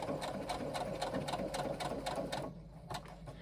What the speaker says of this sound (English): just stitch for about an inch or so